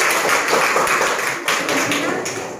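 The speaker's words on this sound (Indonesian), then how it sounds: "Oke, tepuk tangan." Schoolchildren in a classroom clap their hands together during a geometry lesson on lines and angles, a fast brisk patter of many claps close by, breaking briefly midway before resuming.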